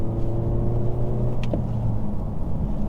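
A 2025 Honda Civic Si engine hums steadily from inside the cabin, with a brief sharp blip of revs during a rev-matched downshift partway through before settling back to a steady drone.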